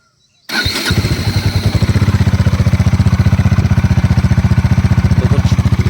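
A Bajaj Dominar 400 motorcycle fitted with a half exhaust fires up after a short silence and settles into a loud, steady, close thumping idle with a fast even pulse, no voices over it.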